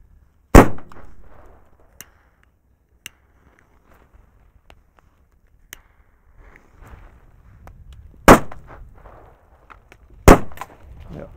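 Firecrackers from a Nico Crash assortment: three loud, sharp bangs spaced far apart, with faint clicks and rustles in the quiet between them.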